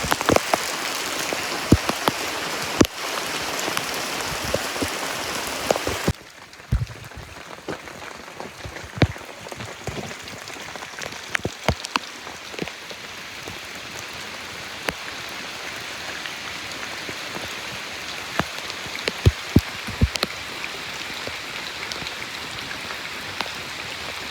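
Steady monsoon rain pours down in a broad, continuous wash, with scattered sharper drops and splashes striking nearby surfaces; the downpour grows louder and denser for the first six seconds, then settles into an even, softer hiss.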